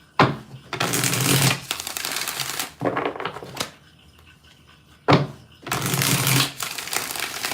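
Tarot cards shuffled in a few separate bursts of riffling and slapping, each lasting one to two seconds with short pauses between, close and fairly loud with no talking.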